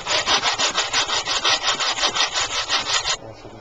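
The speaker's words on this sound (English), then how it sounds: "now I'm going to sand down to the original lines that we marked on here" Rhythmic back-and-forth sanding of a wooden guitar neck with a wide sanding block, quick regular strokes up close, stopping abruptly near the end.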